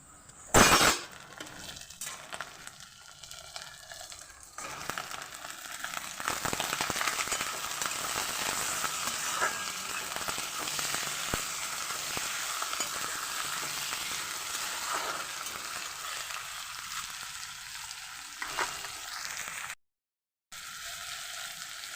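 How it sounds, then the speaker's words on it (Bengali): Chicken pieces frying with onion and salt in a pan, a dense, steady close-up sizzle that runs on for over twenty seconds, with an occasional clink of a utensil near the start. "আমি লবণ দিয়ে চিকেনটাকে পেঁয়াজের সাথে ভালোভাবে আগে ভেজে নেব"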